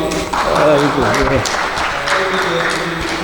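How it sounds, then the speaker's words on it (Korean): Applause rises from an academic conference audience after a presentation, scattered claps mixed with a speaking voice over the room, fairly close and moderately loud. "우리 김대일 교수님 발표 다시 한번 크게 박수."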